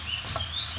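Birds cluck softly nearby in a home kitchen, a few short chicken-like clucks and chirps over a faint background hum in a brief moment.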